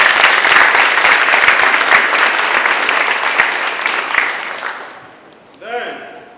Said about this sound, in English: Can you clap for yourself, please?